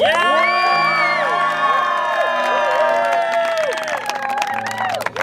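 A crowd cheering for Sister Ernst at a church ward pioneer trek gathering, with many voices whooping and shouting in sustained, overlapping cheers, loud and close, with some scattered clapping toward the end.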